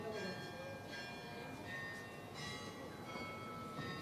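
A church bell tolls at nine in the evening in Halmstad, its ringing tones sustained and fairly distant under a commentator's voice and the murmur of a crowd at a pétanque match.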